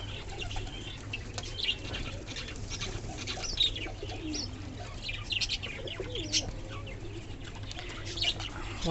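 Fancy pigeons resting in the sun after a bath, with soft cooing and scattered chirps and tweets over a steady low hum, faint wing flutters now and then.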